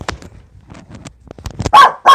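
A dog barks indoors, two loud sharp barks near the end of a quieter stretch of shuffling and movement.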